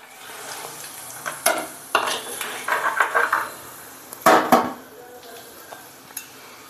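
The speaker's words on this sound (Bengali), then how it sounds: "এবার একটুখানি নাড়িয়ে নেবো ভালো করে, যাতে ফোড়নটা ঠিকঠাক মতো" Cumin powder tempering stirred in hot oil in a pan, a quiet sizzle under a series of metallic scrapes and clinks from a spoon against the pan, two louder clusters of stirring near the middle.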